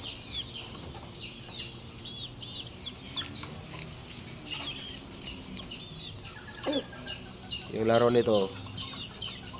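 A black macray rooster clucks in repeated short bursts from close by, with a louder squawking flurry near the end, while someone talks over the bird throughout.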